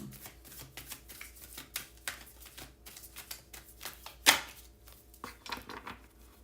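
Cards being shuffled in quick riffling bursts, with soft rapid flutters and one sharper snap partway through, close and fairly quiet.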